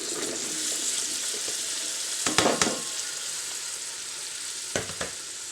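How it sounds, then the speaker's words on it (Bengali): Vegetables tipped into a pan of lightly fried onions for vegetable khichuri give a steady close sizzle, with a few sharper crackling bursts and stirring scrapes partway through. "এখন আমি এর ভিতরে সবজিগুলো দিয়ে নিব।"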